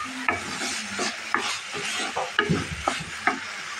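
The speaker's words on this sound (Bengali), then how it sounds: "এখন বন্ধুরা আমি 1/2 চামচ মরিচের গুঁড়া, 1/2 চামচ জিরার গুঁড়ো দিয়ে দিলাম। এখন আমি সুন্দর করে কষিয়ে নেব।" Red lentils sautéed with chili powder and cumin powder in a pan, stirred with a spoon in a series of distinct scraping strokes over a soft sizzle, close and clear, with no talking.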